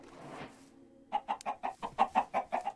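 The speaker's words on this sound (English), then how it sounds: "Chickens." Minecraft chickens cluck in a quick run of about ten short, evenly spaced clucks after a brief stretch of quiet game ambience.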